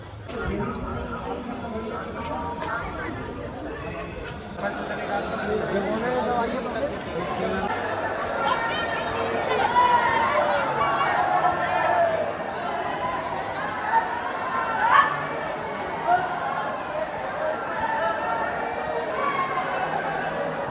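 A dense crowd chatters while waiting in the queue at Mahakal temple in Ujjain, a continuous murmur of many voices with scattered louder calls and footsteps close by.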